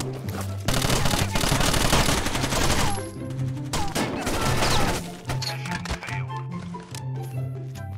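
Rapid bursts of gunfire in the video game Tom Clancy's Rainbow Six Vegas 2, dense and loud for several seconds, easing into sparser shots over a steady game soundtrack.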